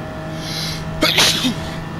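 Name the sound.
sneeze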